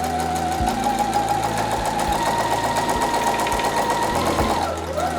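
A sewing machine stitches a homemade fabric face mask, its motor whirring with a rapid, even mechanical clatter that runs steadily before slowing to a stop near the end.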